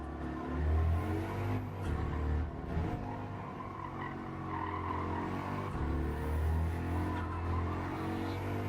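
A GTI race car in a racing video game drones close and steady, its engine note holding and shifting pitch through gear changes and corners, with a brief skid-like scrape between surges.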